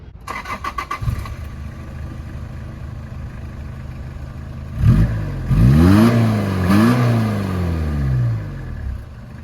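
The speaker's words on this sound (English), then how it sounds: "this is my 1995 Toyota Corolla 4-wheel drive diesel wagon" A 1995 Toyota Corolla 4WD diesel wagon engine cranks with rapid ticking, settles into a low idle, then catches loudly and gives several rising and falling revs before easing back down, all close by.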